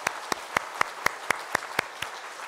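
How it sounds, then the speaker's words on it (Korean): A church congregation welcomes newly registered members during a Sunday service with a few slow, evenly spaced claps in unison, rhythmic and moderately close. "우리 큰 박수로 환영의 박수 하겠습니다"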